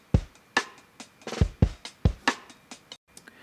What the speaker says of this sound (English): I added this snare drum ghost notes right before the kick